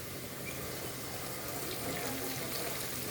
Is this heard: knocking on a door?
no